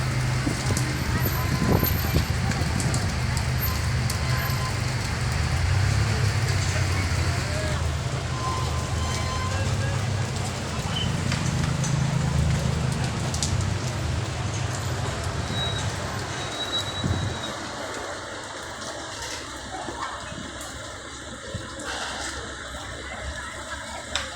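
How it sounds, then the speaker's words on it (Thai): Steady rain falls with a continuous broadband hiss and patter that softens toward the end, while someone talks over it at times. "ฝนตกเลยครับ"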